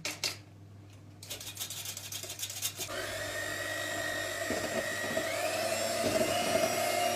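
An electric mixer whisks cake batter made with eggs, baking powder and vanilla, starting with a few short whirring bursts before settling into a continuous high buzzing whine, close and fairly loud.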